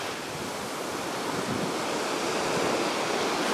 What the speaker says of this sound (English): So yeah, this is Gulf Shores Beach